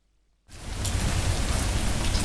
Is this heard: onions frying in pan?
no